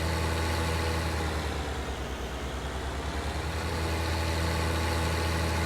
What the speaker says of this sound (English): There's a T8 tractor driving around on his lawn.